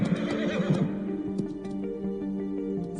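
A horse gives a loud, wavering whinny up close, then softer snorts and a few hoof clops follow against a quiet background.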